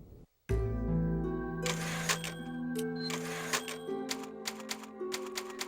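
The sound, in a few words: typewriter sound in Resident Evil 4 video game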